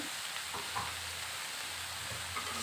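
Khesari greens fry in a pan with a steady, close sizzle and occasional scraping as they are stirred, with no talking over it.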